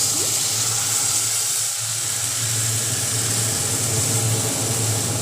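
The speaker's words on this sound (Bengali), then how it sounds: "সেই মশলাটাকে ধুয়ে আমি এর মধ্যে জল দিয়ে দেবো" Water pours steadily into a bowl of katla fish pieces after the spice coating is rinsed off in a home kitchen, a continuous loud splashing gush with no talk.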